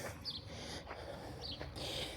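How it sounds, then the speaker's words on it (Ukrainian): Starlings chirping outdoors in a garden, a few short faint tweets scattered over two seconds against quiet background, with no talk. "Ті шпаки."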